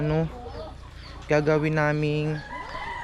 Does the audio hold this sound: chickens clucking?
yes